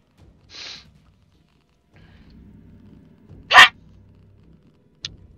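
A single sharp sneeze bursts out near the middle, loud and close, with a fainter breathy sound earlier and low background rumble around it during a French co-op shooter game session.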